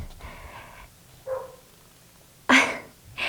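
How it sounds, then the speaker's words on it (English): A dog barks in the background, a few loud, sharp bursts, the strongest near the end, over quiet room noise with faint breathing-like sounds before them. "our dog barking so loudly"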